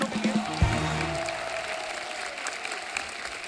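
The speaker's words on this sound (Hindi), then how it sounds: "जोरदार तालियां हो जाए हमारे मेहमानों के लिए।" Studio audience applauding guests arriving on a Hindi comedy talk show, a steady broadband wash of clapping that fills the clip at moderate level, with a brief low thump near the start.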